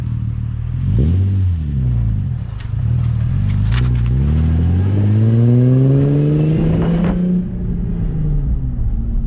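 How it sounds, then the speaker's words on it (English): A Nissan 350Z with a welded differential revs hard on a test drive, its loud engine note climbing and falling in repeated sweeps, then holding a long rising pull before easing off, with road rumble throughout. "take it out for its test drive with the old welded diff back on"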